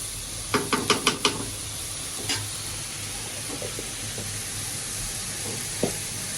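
Spice paste with chili powder and turmeric fries in a pan under a steady close hiss, opening with a quick run of spoon knocks and a few later scrapes.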